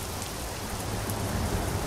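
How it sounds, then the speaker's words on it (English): Steady rain in the video game Euro Truck Simulator 2 pours down in a continuous broadband hiss, close and even, with a low rumble underneath and no voices. "Oh, and it's raining."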